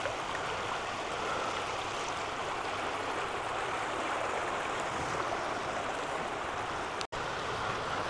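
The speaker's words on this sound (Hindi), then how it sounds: "और पानी यहाँ गोल गोल घूम रहा है।" Swirling stream water in Eidfjord, Norway, rushes as a steady, close broadband wash with no voices, broken only by a brief dropout near the end.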